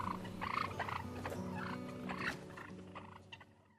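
A wild male turkey gobbles in a few rapid, rattling bursts, close and fairly loud, the calls fading toward the end.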